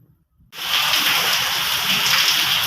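Heavy rain in Chennai: rainwater rushes and gushes across a flooded road, a steady loud broadband roar that starts abruptly after a brief quiet moment and continues unbroken.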